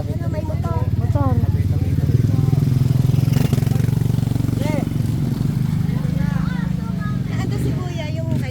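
A motorcycle engine rumbles steadily in the foreground on a town street in Patnanungan, Quezon, as voices chatter and call out over the drone throughout.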